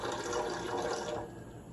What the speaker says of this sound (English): I'm going to go to 310 grams of water.